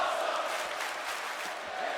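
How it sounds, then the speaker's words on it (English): Arena crowd cheering in the WWE 2K24 wrestling game, a steady wash of distant massed voices and whoops holding at an even level without pause. "And the crowd showing their appreciation for this matchup."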